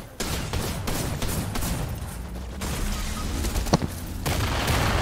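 Gunfire in Fortnite, a dense fusillade of rapid shots and booms layered over continuous game noise, loud and sustained with a sharp crack near the end.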